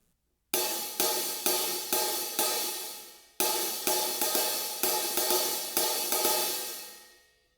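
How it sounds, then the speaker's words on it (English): Slightly open hi-hat cymbals sizzle together in a steady pattern of repeated washy strikes, each ringing and overlapping the next, loud and close with no talking, then fading out at the end. "We're going to open the hi-hats just enough that they make an open sound where they sizzle together."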